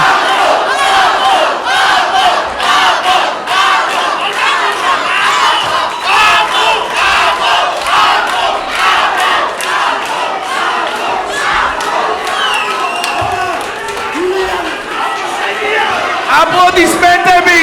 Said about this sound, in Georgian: როგორ გულშემატკივრობენ აბოს გესმის?